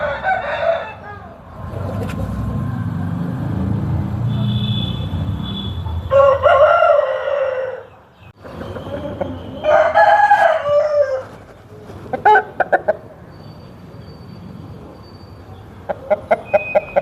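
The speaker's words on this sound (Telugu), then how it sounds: "కోడిని అయితే చూసేయండి" A rooster crows loudly several times, close by, with other chickens clucking and short bursts of farmyard noise between calls.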